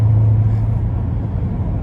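A loud, deep engine rumble throbs steadily at close range, an 850 HP supercharged V8 Corvette C7 Z51 with cam and exhaust work idling heavily with a rough, chopped low-end pulse.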